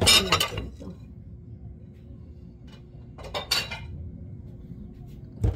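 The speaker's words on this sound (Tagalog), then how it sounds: "Hugas muna tayo ng pinggan" Dishes and plates clink against each other as they are washed. Sharp clatters come at the start and again about midway, over a low, steady background of running water.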